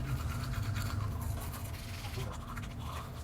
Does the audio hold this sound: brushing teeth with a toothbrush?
yes